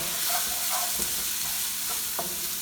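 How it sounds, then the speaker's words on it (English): Onion fries on high heat in a pan for aloo gobi, a steady loud sizzle broken by a few scraping stirs, with no talking. "This is how the onion has to be browned evenly so that it can be translucent. This is all cooked on a high heat."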